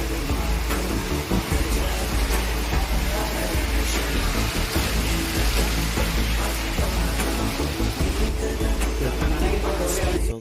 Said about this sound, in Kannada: ಸೊ ನೋಡಿ, ಫುಲ್ಲು ಮಳೆ.